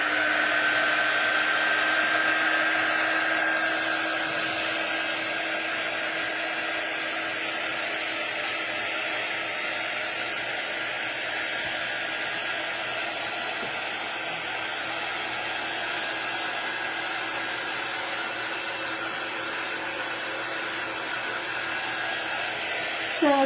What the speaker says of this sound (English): So I'm going to take the dryer to it.